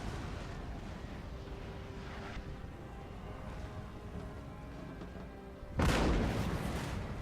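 Artillery firing in the Napoleon Total War video game, a steady low rumble of distant guns with a loud, close boom bursting in near the end and continuing as a heavy roar.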